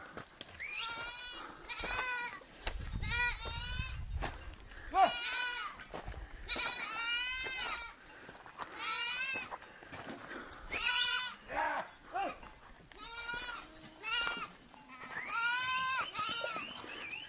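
Livestock at a farm in Baja California, seen as cows, call out repeatedly in loud, wavering bleat-like cries, with several animals overlapping in close succession and faint low rumbles between calls.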